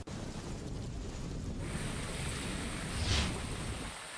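Heavy rain pours steadily over flooded village streets near Upleta, Rajkot, a dense continuous hiss of water with a gusty, windy roar that swells slightly near the end.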